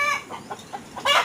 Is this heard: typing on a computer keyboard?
no